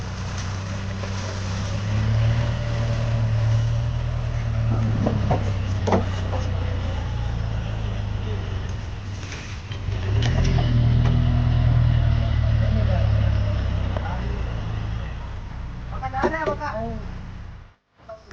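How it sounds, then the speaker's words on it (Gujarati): A tractor's engine drones at low pitch among date palms on a farm, steady and fairly close with a rise midway, while people talk over it and some clattering knocks occur. "બીજા ઝાડની અંદર આવી ગયું ટ્રેક્ટર"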